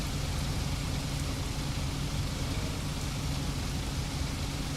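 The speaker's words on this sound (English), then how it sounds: "Oh, I think it started raining on here." Rain falling in a video game, a dense, steady hiss of heavy rainfall that stays constant and fairly loud throughout with no talk.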